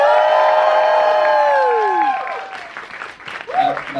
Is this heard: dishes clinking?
no